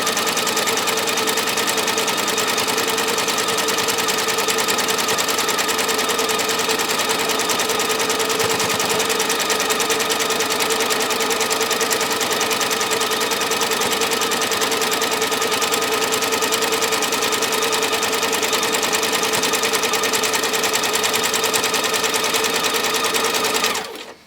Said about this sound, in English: and then I can just sew